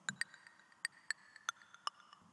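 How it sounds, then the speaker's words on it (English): A small, dry click sample layered into a music production track, repeating in a sparse, irregular pattern of sharp, bright ticks with faint tonal ring, quiet and alone. "I also added this little click, just a click."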